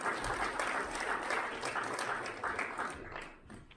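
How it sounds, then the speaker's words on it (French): Steady applause from an audience at a panel discussion, dense clapping that holds for a few seconds and fades slightly at the end. "On peut l'applaudir pendant qu'elle s'en vient."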